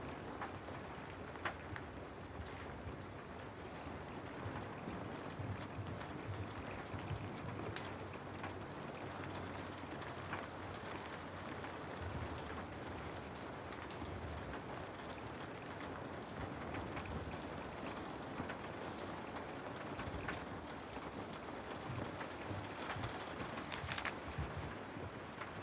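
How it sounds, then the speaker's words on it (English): Heavy rain streaming against a window glass, a steady dense hiss with soft patter and occasional faint low rumbles, continuous and unbroken with no voices. "The rain is heavier now. It streaks down the glass in long, wavering lines."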